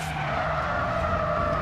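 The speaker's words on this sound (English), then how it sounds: "The wastegate sounds awful." Turbocharged car engine in Need for Speed: World with a harsh, faulty-sounding wastegate, a steady loud whooshing drone with a sustained tone, continuous and alone through the moment.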